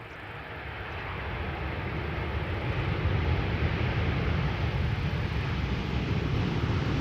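Airliner landing at Amsterdam Schiphol Airport with light reverse thrust, a broad distant jet roar swelling in and holding as a steady rushing rumble.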